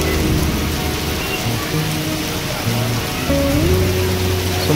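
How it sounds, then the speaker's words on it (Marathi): Heavy rain during a thunderstorm in Nanded makes a loud, dense, continuous roar of water on surfaces, steady throughout with slight swells and no talking. "नांदेडमध्ये जोरदार पाऊस चालू आहे विजांच्या कडकडाटासह।"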